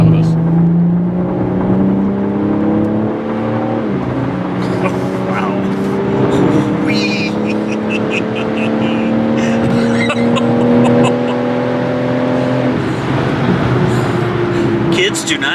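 A BMW with a 3-liter twin-turbo inline-six making 503 horsepower accelerates hard up a ramp, its engine note rising steadily and loud throughout, with voices talking over it.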